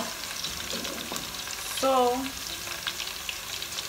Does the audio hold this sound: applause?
no